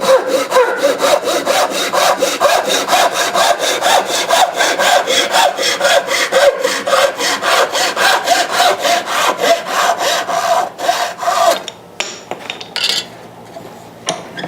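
A hand saw cuts waste off a wooden tenon in loud, steady back-and-forth strokes for about eleven seconds, then a few slower, lighter strokes as the cut finishes.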